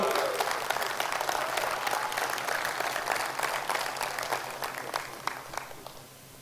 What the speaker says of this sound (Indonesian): Tepuk tangan untuk Pak Andi